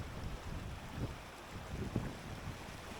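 Wind gusting over a mountain in Mickleden Valley, a steady low roar and buffeting rumble against the microphone, loud and continuous with a few brief thumps.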